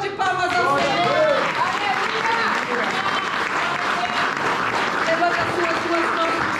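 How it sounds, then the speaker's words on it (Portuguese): A Sunday church congregation applauding the Lord, sustained loud clapping from a crowd mixed with raised voices and cheers throughout. "Uma salva de palmas ao Senhor"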